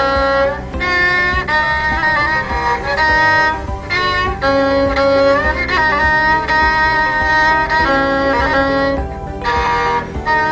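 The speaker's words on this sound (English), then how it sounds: "Reba, a two-stringed fiddle." Reba, a two-stringed bowed fiddle of the gamelan, sounds a sustained wavering melody inside a dense, loud ensemble texture of struck gongs and metallophones, continuous throughout with no voices.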